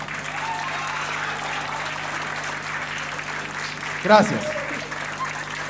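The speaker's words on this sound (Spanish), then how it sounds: "¡Aplaudan!" A wrestling arena crowd applauds steadily throughout a lucha libre bout, a broad sustained roar of clapping, with a brief louder burst and a spoken word near the end.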